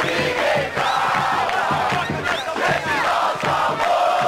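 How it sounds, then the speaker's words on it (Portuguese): Stadium crowd in the PES 2010 football video game on PC, a loud continuous roar of chanting supporters at a Série A match between Avaí and Bahia, steady and dense throughout. "Paulo Vinícius Coelho, escuta só esta torcida."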